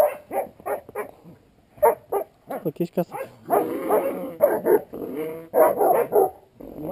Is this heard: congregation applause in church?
no